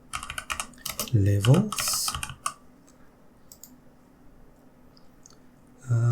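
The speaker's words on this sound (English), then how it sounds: "I'll type in here completion" Rapid close typing on a computer keyboard, clustered keystrokes in short bursts with someone speaking briefly over part of it, then a quiet stretch.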